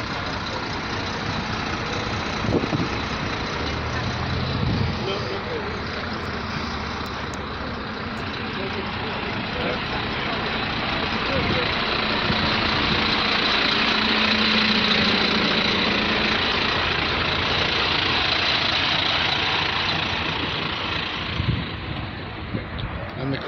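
Western National vintage bus, number 1056, idling at a vintage bus day in Penzance, Cornwall, its engine a steady low rumble throughout alongside crowd chatter and a voice talking.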